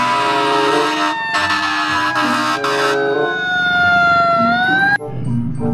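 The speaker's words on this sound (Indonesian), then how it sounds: "Wah, yang ini ada mobil pemadam kebakaran." A loud wailing fire engine siren sweeps up and down continuously, close by, with a brief break near the end before it resumes.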